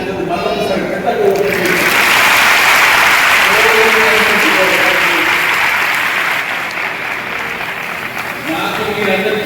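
A church congregation at the CSI church in Bellampalli applauds in a loud, sustained wash of clapping that swells and holds for several seconds before easing, with voices talking over it.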